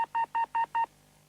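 A telephone keypad sends five evenly spaced dialing tones in quick succession, clean and alone, followed by quiet line hum.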